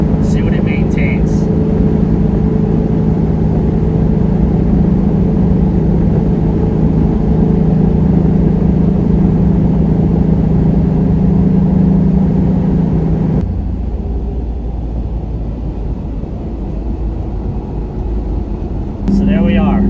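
Steady cabin drone inside a 1986 VW Syncro van cruising at 50 mph in fourth gear, a dense low engine and road hum that holds constant, then drops noticeably quieter near the end before briefly returning.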